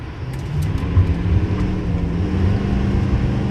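A 2025 Chevy Silverado 3500 High Country diesel pickup with a 10-speed Allison transmission accelerates hard, its loud, close engine drone holding a steady, throaty tone throughout with no voices.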